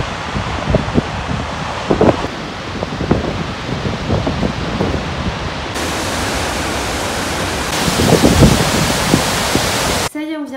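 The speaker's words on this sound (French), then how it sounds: "j'entends la cascade" Gullfoss waterfall in Iceland roars as a dense, steady wash, buffeted by cold wind gusting against the microphone, with brief talk at moments.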